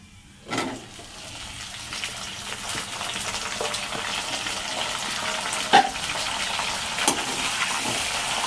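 Sliced bitter gourd fries in a pan with a steady, even crackle and hiss throughout, a few sharper pops standing out, with no voices.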